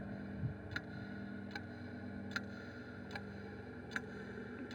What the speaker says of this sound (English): What a lovely brutal swooshing sound this clock makes.